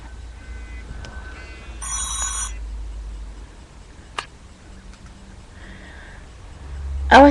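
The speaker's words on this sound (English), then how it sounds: "my telephone is ringing." A telephone rings in short electronic bursts, fairly faint against a steady low background hum, with a few clicks and rustles between rings and a louder bump at the end.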